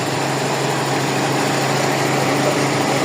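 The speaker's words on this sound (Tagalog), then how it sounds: "Ayan, yung parang palyado." Toyota 4AFE car engine idling roughly with a misfire, a steady close-up mechanical hum and buzz with a faintly uneven, pulsing texture, no voices.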